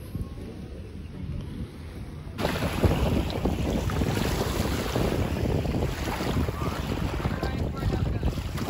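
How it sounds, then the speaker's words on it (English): A kayak out on open water, with wind buffeting the microphone and a continuous wash of water. It starts quieter, then turns louder and steadier after about two seconds, and no one talks. "Kayaking, here we come."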